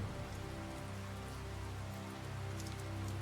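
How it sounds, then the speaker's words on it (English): Steady rain falling in Tales of Zestiria, a dense, even patter on surfaces that fills the scene continuously with no voices. "let's walk into the rain to talk more"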